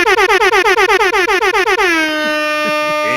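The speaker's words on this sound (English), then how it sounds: "Extra air horns for everybody there. Air horns for the gang." A loud air horn blasts in rapid repeated bursts, then holds one long sustained tone that fades out.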